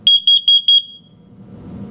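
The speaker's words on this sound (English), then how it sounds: "Warning, carbon monoxide." A home carbon monoxide alarm sounds four loud, shrill beeps in quick succession, then stops, leaving a quiet low rumble of room noise.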